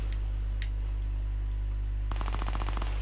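Rapid SMG gunfire in a competitive build-fight video game match, a short burst of quick repeated shots near the end after a quiet stretch with steady background hum.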